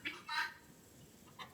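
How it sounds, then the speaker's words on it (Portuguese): Guinea fowl calling outdoors, a few faint, harsh, scratchy squawks in quick succession, distant and brief against a quiet background. "Eu não tenho paciência com essas galinhas de Angola, juro por Deus."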